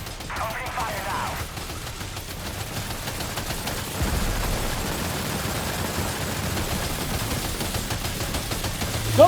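Sustained gunfire from the Magellan ship battle in Death Stranding 2: On the Beach, a dense continuous fusillade with rumbling low booms, running steadily throughout with talk faintly mixed underneath.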